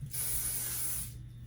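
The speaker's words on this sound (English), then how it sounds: "we're gonna go in with the Aiir Professional Shine Spray, and I'm just going to spray that all over my hair" One steady hiss of Aiir Professional Shine Spray misted over hair, a continuous close spray lasting about a second before cutting off.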